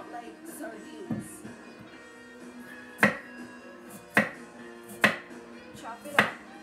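A knife chopping milkfish for paksiw na bangus on a board, a few sharp evenly spaced knocks over faint background noise, starting after a quieter stretch with a little talk.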